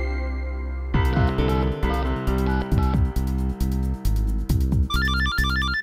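A mobile phone ringing in another room of a home, a loud electronic ringtone melody of repeated short tonal phrases that plays on without pause and with no voices over it.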